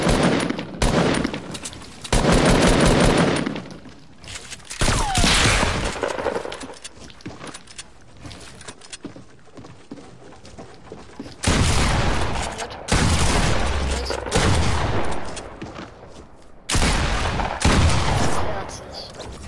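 Bursts of Fortnite gunfire recur through the stretch, loud clusters of rapid shots separated by quieter gaps, with a voice talking over parts of it.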